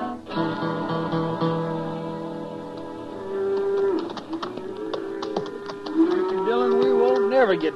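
Cattle lowing in a radio western drama, several long drawn-out moos rising and overlapping across the second half, fairly close, over a dense layered bed of earlier herd and ambient sound with faint tapping.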